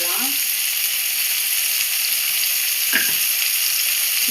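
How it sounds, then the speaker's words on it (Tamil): Tomato and onion sauté in a pan with rock salt, a loud, even sizzling hiss throughout with a brief stir near the start and another midway. "கல் உப்பு போட்டு நம்ம வதக்கும் போது அந்த தக்காளி சீக்கிரமாக வதங்கிடும்"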